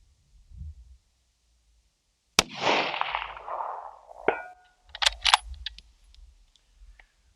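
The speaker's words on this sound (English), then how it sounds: "The return from recoil back to the natural point of aim is on point, especially for such a small tripod with a heavy recoil and rifle like the 7 SAUM." A single loud 7 SAUM rifle shot fired from a compact tripod at a 500-yard target, a sharp crack followed by a long fading rumble of echo, then a few faint clicks and handling noises.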